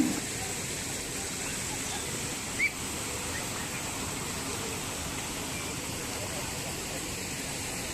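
Steady broadband roar of the Thalayanai waterfall at Kalakad near Tirunelveli, a constant even rush of falling water heard from nearby with no voices, one brief faint click early on.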